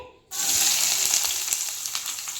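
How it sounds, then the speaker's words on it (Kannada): Sliced onions hit hot oil in a pan, about four tablespoons' worth, and set off a sudden loud, steady sizzle and crackle that carries on without talk. "ಬಾಣಲಿಗೆ ಒಂದು ನಾಲ್ಕು ಟೇಬಲ್ ಸ್ಪೂನ್ ಅಷ್ಟು ಎಣ್ಣೆ ಹಾಕೊಂಡಿದ್ದೀನಿ ಇವಾಗ ಇದಕ್ಕೆ ಏನು ಹಾಕೋಬೇಕು ಅಂದರೆ ನೆಕ್ಸ್ಟ್ ಈರುಳ್ಳಿ ಹಾಕೋಬೇಕು"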